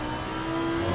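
Race car engine heard from on board during a race at Donington, a steady loud drone with a sustained tonal whine and slight rise in intensity, no voices.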